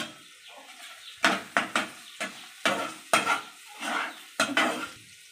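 Okra and potatoes frying in a pan with a few coriander leaves, stirred in quick bursts: sharp scraping strokes and clinks of a spatula over a soft sizzle, close and fairly loud.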